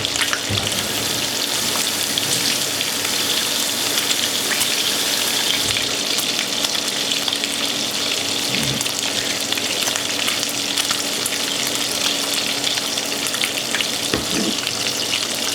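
Bacon frying in a pan gives a steady, loud, dense crackling sizzle that runs throughout, with a few low thumps from the pan and no talking.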